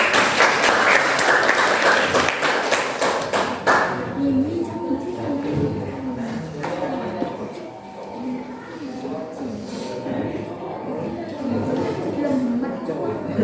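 Classroom applause from tenth-grade students at a high school, a dense burst of clapping for the first few seconds that fades into chatter and talking voices.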